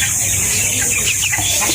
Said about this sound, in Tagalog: Sir, ito na po yung mga sisiw nyo.